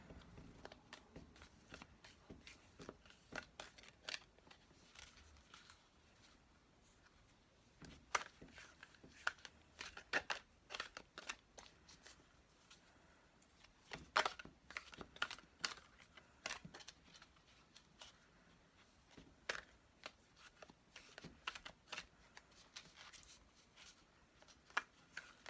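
Tarot cards being shuffled by hand at close range, giving repeated soft riffling and slapping bursts in irregular runs with brief pauses, with no talk over them.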